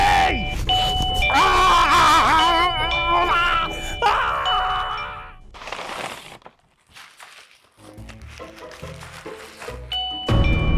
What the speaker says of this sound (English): so what do you think of the doggy doorbell?